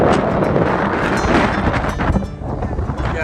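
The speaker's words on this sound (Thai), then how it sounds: "ลมแรงมากจุดนี้" Strong wind buffets the microphone at the Rigi mountain viewpoint in Switzerland, a loud, continuous broadband roar with gusty surges throughout.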